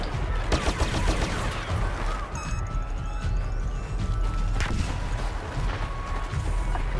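Rapid weapon fire in a Star Wars Battlefront game match, dense crackling volleys and blaster-like zips in steady bursts, fairly loud and continuous with game noise beneath.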